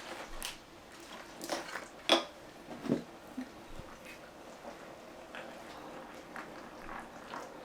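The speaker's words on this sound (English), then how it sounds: "so I'm just leaving it to boil, start boiling a bit for the heat to grab the okra" Soft, quiet simmering of okra soup in a pot with faint bubbling and a few light clinks of cookware, steady low background hiss throughout.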